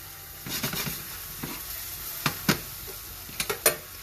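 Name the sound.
chopped onions and chili peppers sauteing in a pan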